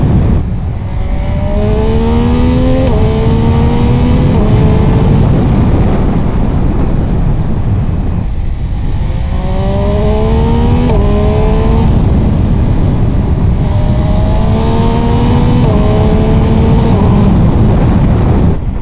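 An MV Agusta Turismo Veloce 800 Lusso SCS motorcycle engine revs up through rising gear runs several times in a row, loud and close, with rushing wind noise throughout.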